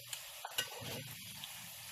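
Plantain spiders (arañitas de plátano) fry in a pan with a steady soft hiss, punctuated by a few sharp clicks and taps of a utensil.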